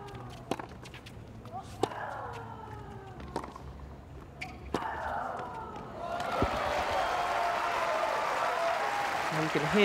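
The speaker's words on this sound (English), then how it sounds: "Hear the applause from the crowd" Crowd applause at a women's tennis quarterfinal in Cincinnati rises after a point, broad clapping swelling over the last few seconds, preceded by sharp ball strikes and a commentator talking.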